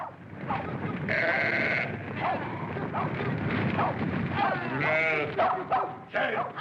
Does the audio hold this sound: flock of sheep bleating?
yes